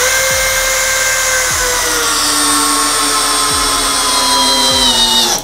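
A Bosch GSB 185-LI cordless drill drives a 1/4x70 hex screw with a loud, continuous high whine up close, its pitch sliding gradually downward under load, with no voices.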